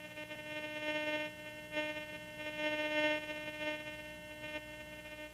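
A Garrett GTI 2500 metal detector in All Metal mode hums a steady, faint threshold tone with slight swells in level, no voices over it.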